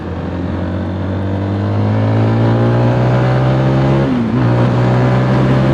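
Zontes GK350 motorcycle revving while ridden, its engine note climbing steadily and loud, with a brief dip like a gear change before it pulls up again.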